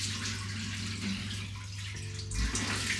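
Running water splashing at a sink while a face is rinsed, a steady close wash of sound with a low hum beneath it.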